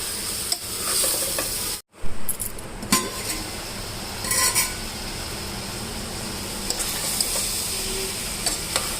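Keema fries with turmeric in a pan, giving a steady close sizzle. Stirring scrapes and light metallic clinks break through it, and the sound drops out briefly once.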